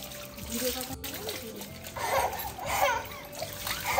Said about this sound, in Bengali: ঘোরাঙ্গি এখন স্নান করছে, দেখুন ঠান্ডা জলে স্নান করছে